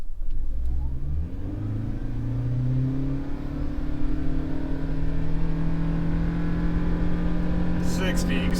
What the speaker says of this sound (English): we will pop out and do a launch because the engine in this car is extremely loud.